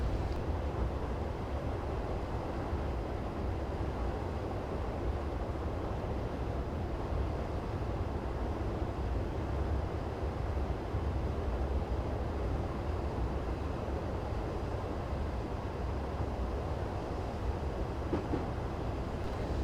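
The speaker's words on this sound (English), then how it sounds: "I'm going to shut off power now and let the train coast" Passenger train coasting with power shut off on the Severn Beach to Bristol Temple Meads line in Train Simulator 2015, a low, steady rolling rumble of wheels on rail, quiet and unbroken with no voices.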